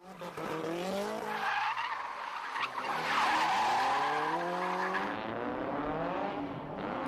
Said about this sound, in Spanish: Hay una competición en la que los coches derrapan deliberadamente para hacer una serie de trompos.